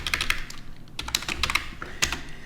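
Rapid, crisp keystrokes on a computer keyboard come in close, busy bursts with brief pauses, loud and alone without any voice.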